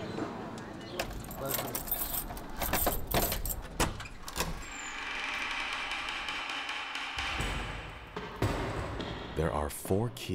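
Keys to the Mogao caves jangling in short metallic bursts, close by, mixed with clicks and handling noise and a stretch of steady background hum.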